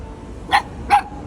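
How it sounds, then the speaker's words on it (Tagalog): A dog barks twice in quick succession, two short, sharp, close barks spaced about half a second apart over a quiet background. "Siguro naipon yung kahol niya ngayon na nilalabas."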